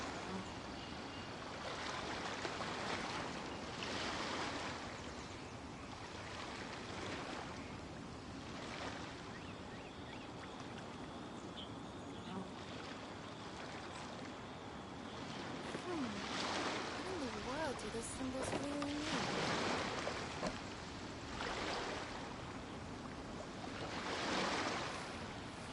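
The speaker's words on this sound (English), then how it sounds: "The sound of the ocean waves." Ocean waves in the video game Genshin Impact wash in steady surges, a continuous dense roar with periodic swells, fairly loud, while a voice talks over part of it.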